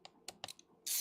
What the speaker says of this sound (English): So remove these fan screws.